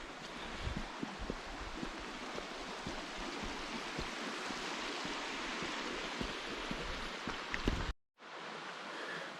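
Stream water flows near Mossy Cave Falls in Bryce Canyon, with small cascades nearby: a close, steady rushing hiss that cuts off abruptly near the end.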